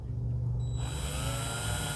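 A power drill drives screws into a cat washroom cabinet being assembled, the motor whirring up from a low hum into a steady high whine that holds loudly to the end.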